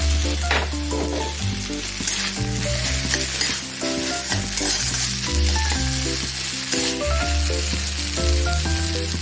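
Potato batter with turmeric and corn fries in a kadai with a loud, continuous sizzle, and stirring clatters over it, close up with no speech.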